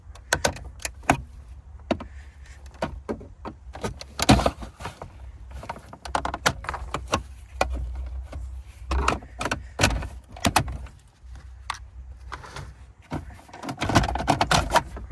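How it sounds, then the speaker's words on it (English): Upper glove box of a 2013-2016 Chevrolet Trax being pried and unclipped from the dashboard, a run of close, sharp plastic clicks, snaps and knocks at an irregular rhythm, with a few louder pops and rustling between them. "try to pry it. This way we'll unclip the glove box."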